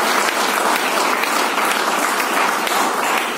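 Dense, steady applause from a large crowd at an AI summit in July 2022, a continuous loud wash of clapping with no pauses.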